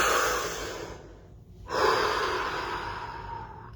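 Slow, deep breathing during a guided stillness and silence exercise, with one long audible exhale fading into a brief pause before the next breath swells up again, close and steady with no talking.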